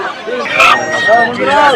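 Chickens cluck and a rooster crows amid a busy market in Haluaghat, Bangladesh, with people talking nearby over the din.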